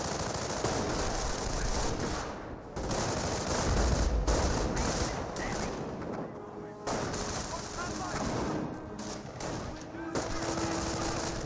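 Dense, continuous machine-gun and rifle fire from an MG42 and infantry battling in the Company of Heroes strategy game, with overlapping bursts and distant explosions forming a steady loud wall of combat noise throughout.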